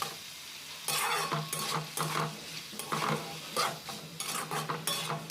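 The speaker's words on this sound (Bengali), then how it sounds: "এইভাবে তো এটাকে অনবরত নাড়াচাড়া করে যেতে হবে যাতে কড়াতে বসে না যায় বা পুড়ে না যায়" Potatoes frying with turmeric in a wok are stirred continuously, giving a steady sizzle with repeated scraping and clinking of the spatula against the metal, close and loud with no voices.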